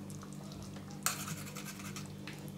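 A spoon stirring a Bengali shol fish curry with garam masala and ghee, a faint steady scraping and swishing with one slightly sharper knock, quiet over a low background hum and no talk.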